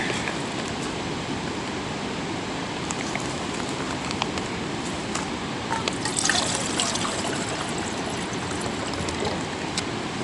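Filtered water pouring from a backpacking water bag into a container outdoors, a continuous close trickling stream lasting several seconds with a few brief clinks, no speech.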